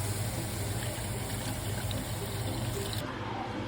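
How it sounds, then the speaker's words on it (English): Chicken or beef broth poured into a pot of curry paste, a steady, close splashing rush of liquid lasting about three seconds before stopping. "Now pour 4 cups of chicken or beef broth."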